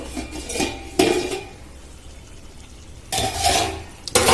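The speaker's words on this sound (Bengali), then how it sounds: "আমি এবার এটা ঢাকা দিয়ে দেবো" A metal lid is set onto a pan of bitter gourd chorchori cooking on a village stove, giving two distinct clattering knocks separated by a quiet simmering pause, close and fairly loud.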